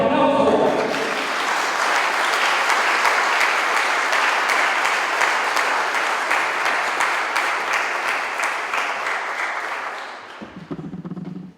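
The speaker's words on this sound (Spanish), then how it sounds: "¡Fuerte aplauso!" A loud, dense round of audience applause rolls on for about ten seconds, then drops away abruptly as the room settles.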